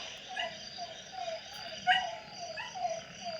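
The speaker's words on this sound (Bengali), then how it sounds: "প্রচুর ব্যাং একসাথে ডাকছে" Frogs and crickets call together outdoors, a steady insect trill under repeated croaking pulses, at moderate distance, no one speaking.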